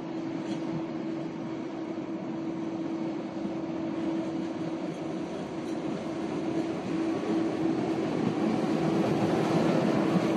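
A train running along a railway line in Cameroon's hinterland toward Douala, a steady rumbling roll with a low droning hum that holds and slowly grows louder over the whole stretch, with no one speaking.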